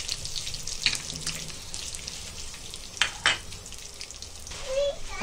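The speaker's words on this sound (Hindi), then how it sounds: "अभी करी पत्ता डालेंगे, बारीक गैस से भून रहे हैं।" Curry leaves and peanuts roast in a pan over low gas, giving a soft, steady sizzle with a few sharper scrapes and clinks of stirring.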